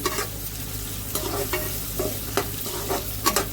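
Onions sautéing in a pan with a soft, continuous sizzle and repeated scraping stirs of a spoon at irregular intervals, fairly close and moderately quiet.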